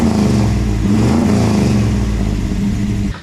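A 1963 Chevrolet Impala hardtop with a V8 engine revs hard and close, a deep, loud roar that holds steady for a few seconds before easing off at the end.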